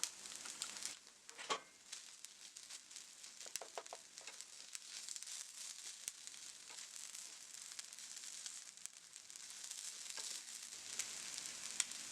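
Shrimp fried rice sizzles steadily in a hot pan, a continuous crackling fry with a few brief scraping stirs near the start, close and moderately loud with no voices.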